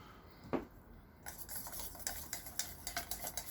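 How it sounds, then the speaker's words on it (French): A spoon stirs a homemade anti-aging cream after drops of collagen are added, a quick knock and then a steady run of light scraping and clinking strokes against the bowl, close and alone. "On mélange, pas que tout soit que d'un côté."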